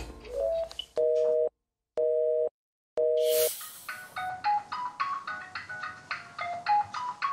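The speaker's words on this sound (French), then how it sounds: "C'est une petite sonnerie qui retentit une dizaine de fois par jour." A telephone ringtone in a call-center setting: a short tone, then three loud identical rings separated by silences, followed by a rapid electronic beeping melody.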